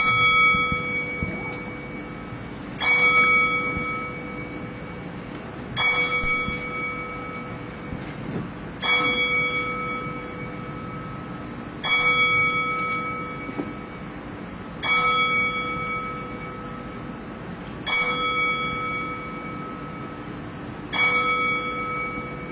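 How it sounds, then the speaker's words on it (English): A ceremonial bell tolls slowly and evenly at a boxing briefing to honor late boxers. Eight strikes are heard, each clear, ringing and then fading before the next, with no voices. "We will toll the bell 10 times in the memory of Jose Santa Cruz and Mike the Body Snatcher McCallum."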